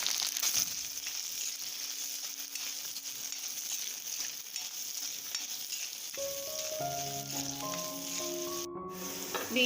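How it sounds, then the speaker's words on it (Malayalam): Beans sizzle and fry steadily in a hot pan, a continuous close crackle, joined in the latter part by brief tonal clinks and scrapes. "ഇനി ഇതിലേക്ക് ബീൻസ് ചേർത്ത് വഴറ്റിയെടുക്കാം."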